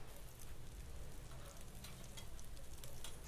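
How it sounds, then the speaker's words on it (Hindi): Potato tikkis frying in a pan for Mughlai aloo akbari, a faint, steady crackling sizzle of hot oil heard alone throughout. "दूसरी साइड से हम पलट के इन्हें पका लेंगे। ये अभी अभी अच्छे से नहीं पकी हैं,"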